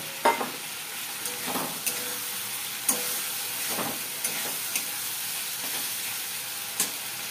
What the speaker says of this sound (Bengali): এবার আমি এর মধ্যে পটলগুলোকে দিয়ে দেবো, ভাজা পটলগুলোকে দিয়ে দিলাম।